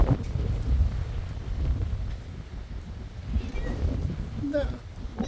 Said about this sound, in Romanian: Vai, dar ce vânt este!